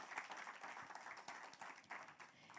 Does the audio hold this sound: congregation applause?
yes